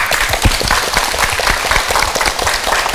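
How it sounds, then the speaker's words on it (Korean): Studio audience applause rings out on a Korean morning talk show as bodyguard guests take their seats, a steady dense clapping that fills the whole stretch with no voices over it. "박수로 맞아주세요."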